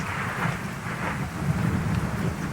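In the video game Ark Survival Evolved, rain hisses steadily while low thunder rumbles beneath it, a continuous stormy roar throughout the short stretch with no speech.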